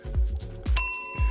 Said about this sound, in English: Mr. Scott, you get the bell for that one.